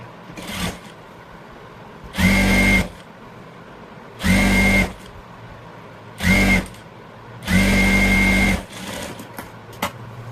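A sewing machine stitches a folded half-inch hem on blouse fabric in four loud, close whirring bursts of varying length, separated by short quiet pauses.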